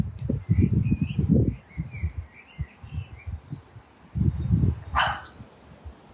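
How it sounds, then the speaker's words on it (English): A dog barks outdoors in a garden setting, in a few rough bursts early on and again later, moderately near, with scattered bird chirps in the background. "and then the dog barks"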